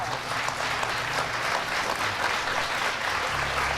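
Audience clapping and applause, a steady dense wash of many hands filling the whole stretch at a constant level, with a low hum underneath.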